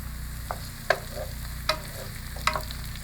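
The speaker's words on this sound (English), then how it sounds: "We add our sweet chopped peppers and we saute it for 2-3 minutes" Chopped sweet peppers sauté with soft onion and garlic in a pan, a low continuous sizzle broken by three or four sharp scrapes of a spoon stirring, close and without talk.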